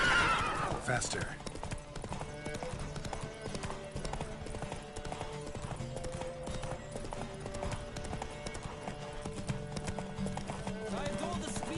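Rapid clip-clop of galloping hooves in a Witcher 3 horse race runs steadily throughout, with a horse whinnying early on and voices calling out over the rhythmic pounding.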